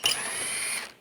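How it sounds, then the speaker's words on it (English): Ratchet wrench with an 8mm socket turning a headlight bolt on a Dodge Dart, a quick, close burst of rapid clicking lasting about a second. "this is a 8mm socket I'm going to use to take this one out"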